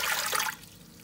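Water pours into a pressure cooker holding a can of condensed milk for banoffee pie, a close, steady splashing trickle that stops about halfway through and leaves quiet hiss.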